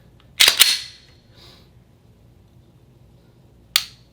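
A Glock 19 Gen 5 fitted with a Timney trigger is dry fired, giving a sharp close trigger snap with a quick follow-up click, then quiet before one more crisp reset click near the end.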